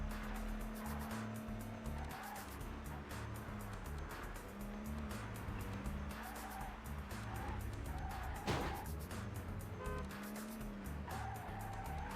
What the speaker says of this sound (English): We're driving about London.